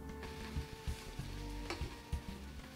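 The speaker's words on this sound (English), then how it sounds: "fry the vegetable marrows or zucchini, whichever you have, until it's half cooked and becomes a little bit golden brown" Steady sizzling of zucchini frying in a pan, with occasional scraping and stirring clicks, close up and continuous.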